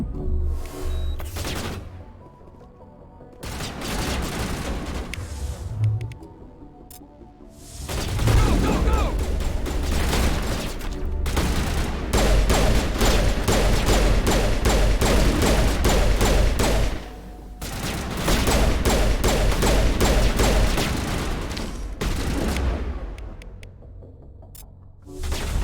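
Gunfire rattles through a Mass Effect multiplayer horde-mode match, coming in long, dense bursts of rapid shots separated by quieter pauses, loud and close, with a player occasionally talking.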